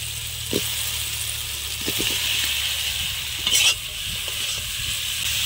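Fried potatoes and melted tomato being stirred in a pan, a steady sizzle of frying with scraping spatula strokes and a few sharper clatters against the pan, close and continuous.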